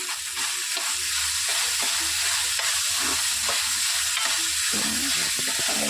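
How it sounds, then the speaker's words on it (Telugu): Onions frying in a pan until golden, a loud, steady sizzle with occasional stirring scrapes throughout and no voices. "ఆనియన్స్ గోల్డెన్ కలర్లోకి వచ్చేంత వరకు ఉండాలి."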